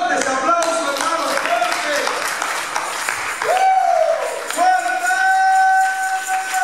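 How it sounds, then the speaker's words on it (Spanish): A church congregation claps together in sustained bursts during a service, mixed with held musical or sung tones and a voice leading them. "Fuertes aplausos, hermanos,"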